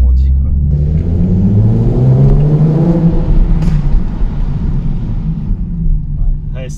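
A stock Nissan 370Z sports car engine revs loud and close, a deep rumbling growl rising and falling across several pulls, with low harmonics sweeping upward and a throaty roar that holds steady throughout.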